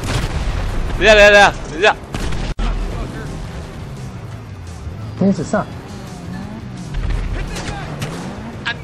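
GTA V military base attack: booming in-game explosions and gunfire, with a sharp blast in the middle, sound under loud, excited shouting from players.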